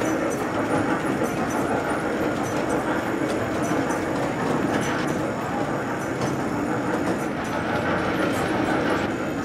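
A Norfolk Southern train passes near Short Pump Town Center in Richmond, Virginia, giving a continuous close rumble with clattering and rattling wheels that holds steady the whole time.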